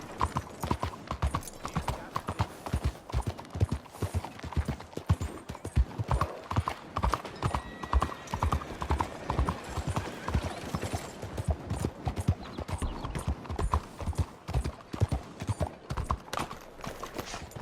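Continuous rhythmic clip-clop of horse hooves on hard ground in the video game Red Dead Redemption 2, close and steady, with a brief whinny in the mix.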